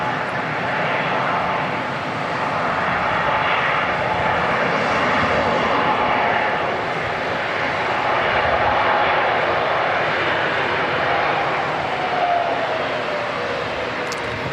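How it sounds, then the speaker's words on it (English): Airbus A321neo airliner engines arriving at Auckland Airport, a loud, steady jet roar that swells and holds across the whole stretch, near and continuous with no talk over it. "Lots of noise from the A321neo."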